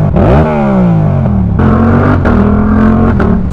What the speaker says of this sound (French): On va tester le rupteur vu qu'il n'y a pas des gens à pied.